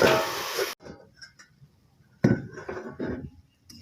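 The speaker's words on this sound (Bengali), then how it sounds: "এখন কিছু সময়ের জন্য ঢেকে দিচ্ছি।" A metal lid set onto a frying pan of greens being fried with turmeric, heard as a loud clattering clink at the start followed by quieter scraping and rattling kitchen sounds with a second clatter later.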